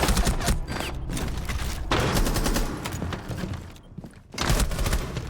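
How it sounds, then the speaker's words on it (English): Rapid gunfire fills a shooter video game match, dense bursts of sharp shots packed closely together, with a short lull near the four-second mark before firing resumes. "That was a hipfire headshot"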